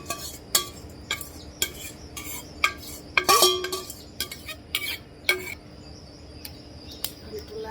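Meat curry being stirred into khichuri in a cooking pot, giving a series of sharp metallic spoon clinks and scrapes at irregular intervals against a quiet background with a faint steady hum.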